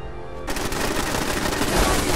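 Automated turrets in Fallout 4 open up with sudden, rapid sustained gunfire, a dense continuous rattle of shots that starts abruptly and keeps going loud.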